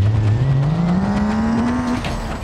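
2000hp semi trucks launching in a BeamNG.drive drag race video game, a loud, low engine drone rising steadily in pitch as they accelerate, close and continuous without talk.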